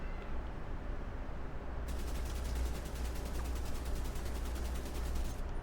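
Kingbreaker rifle in The Division 2 firing a long rapid burst at a wall. Quiet ambience runs for a couple of seconds before sustained, evenly spaced shots continue almost to the end.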